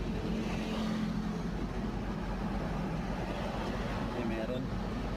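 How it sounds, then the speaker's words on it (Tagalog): Road traffic on a downhill U-turn stretch toward Antipolo, with cars passing in a continuous steady rumble and engine hum, close and even throughout, with no talk. "Traffic"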